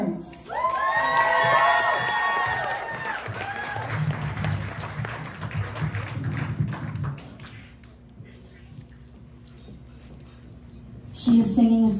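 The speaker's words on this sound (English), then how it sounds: "So you guys, big round of applause for Roxanne" An audience at a Christmas vocal showcase claps and cheers for a singer, with high excited whoops and shouts over the applause at first, then the noise dies down before a brief burst returns near the end.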